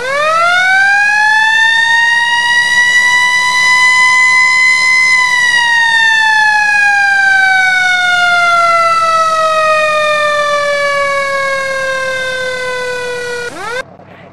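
A Federal Signal Q2B fire truck siren runs at maximum volume, winding up into a loud, sustained wail that slowly falls in pitch before cutting off abruptly near the end.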